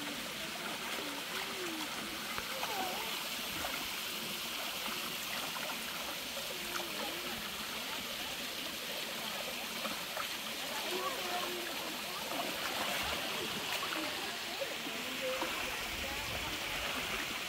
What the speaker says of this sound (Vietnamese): nên con suối nước rất là mạnh